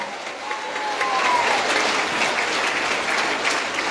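A church congregation claps loudly and steadily for several seconds at a Quechua-language evangelical healing service, a dense, even wash of hands close by with a preacher's voice faintly mixed in.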